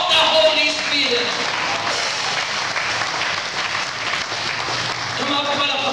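A congregation claps together at a church anniversary service, a continuous, fairly loud wash of applause with voices mixed in beneath it.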